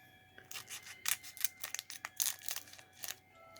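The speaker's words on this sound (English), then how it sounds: "I'm going to open these with a pair of scissors" Scissors snip and cut into a cardboard box of Star Trek Discovery Season 1 trading cards, giving a quick series of close, crisp cuts mixed with light crinkling and rubbing.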